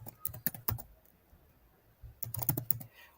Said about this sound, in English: you can type more intricate headlines here